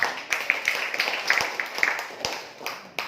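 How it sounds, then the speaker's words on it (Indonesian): Scattered clapping at an Islamic business seminar in Cilangkap, a few sharp distinct claps at irregular intervals, near and fairly loud, with a faint voice underneath. "Beri tepuk tangan buat PT BES."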